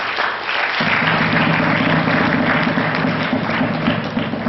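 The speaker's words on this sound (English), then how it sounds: "can we please give another round of applause?" Sustained audience applause at a school awards ceremony for public secondary school excellence, dense and steady clapping filling the hall at close range, with a low hum underneath and no speech.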